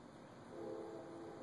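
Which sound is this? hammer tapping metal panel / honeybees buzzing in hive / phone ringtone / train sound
train sound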